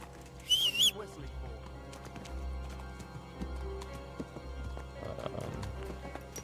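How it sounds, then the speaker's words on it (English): A horse gives a short high whinny early on, then faint clopping and rustling continue under low background noise. "A horse?"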